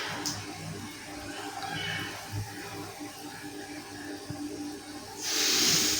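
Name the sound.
tomatoes sautéing in a pan for fish curry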